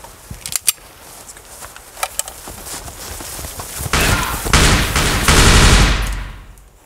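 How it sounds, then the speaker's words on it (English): Gunfire in a comedy skit about a neighborly competition: a few sharp isolated shots early on, then a dense, sustained burst of rapid fire that swells louder toward the end before cutting off. "are you just gonna go out there, find some cover, and keep firing?"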